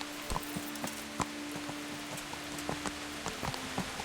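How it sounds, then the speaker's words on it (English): Steady rain patters in a medieval game world from Kingdom Come: Deliverance, a constant wash of drops with a few louder splashes and ticks at irregular intervals, moderately quiet with no voices. "Still raining."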